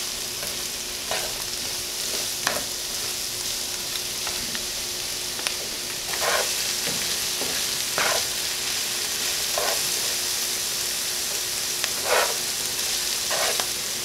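Vegetables sautéing in a pan for a keto turkey fricassee: a constant sizzle broken by repeated scraping stirs at irregular intervals, close and moderately loud, with no talking.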